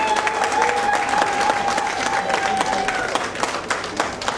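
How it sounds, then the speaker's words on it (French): Audience at the Bansoa king's visit in Paris applauding loudly, dense sustained clapping from a crowd with a faint tonal hum and some voices beneath. "On va encore l'applaudir très fort,"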